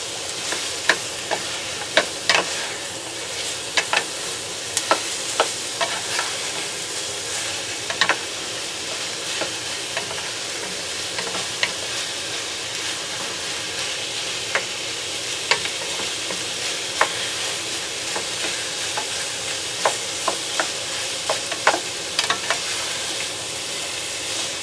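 Seasoned pork for menudo is stirred as it fries in a pan, with a steady sizzle broken by frequent scraping clicks of the spoon. It is close and continuous with no talk.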